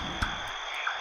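A frog croaking in a farming video game, heard as two short croaks about half a second apart over a steady droning game backdrop, close and fairly clear, with no talking.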